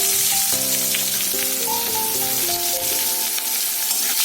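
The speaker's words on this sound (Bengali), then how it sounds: "আর আমি কুচনো পেঁয়াজটা দিয়ে দেবো।" Chopped onion sizzles and fries in hot oil already tempered with spices and tomato for a Bengali dish, a loud steady frying hiss heard up close over background music, with no talking.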